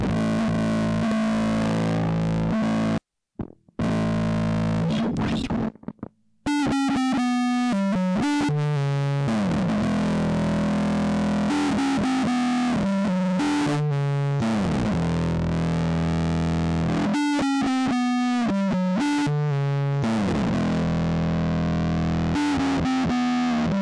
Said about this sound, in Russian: Следующий эффект – это, собственно говоря, эффект дисторшн.